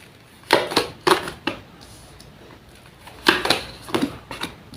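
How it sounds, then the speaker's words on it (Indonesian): Crisp tarot card shuffling and tapping in two short bursts, each a few quick shuffles of stiff cards, separated by a quiet pause. "Saya rapikan dulu sisa kartunya"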